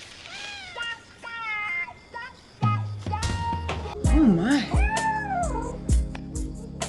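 A cat meows several times, drawn-out and wavering, in a movie scene after it has climbed a tree, while people speak between and over the cries.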